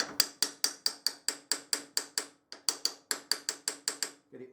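A small hammer strikes a 36mm spanner on a motorcycle front sprocket nut in a garage, giving a fast, steady run of about twenty sharp metallic taps with one brief pause, close and clear.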